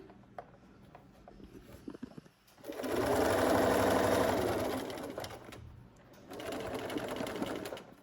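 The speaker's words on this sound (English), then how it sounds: "I'm just sewing along this line." Sewing machine stitching along a marked line on a hooded towel, running in a fast steady burst of needle clatter after brief handling noises, pausing, then starting again close up.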